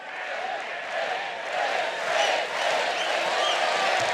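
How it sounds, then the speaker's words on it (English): A beach volleyball crowd at the European finals cheers and roars steadily, the noise swelling and settling in waves around a match featuring the Russian pair. "Crowd loving every touch of the ball from Russia here."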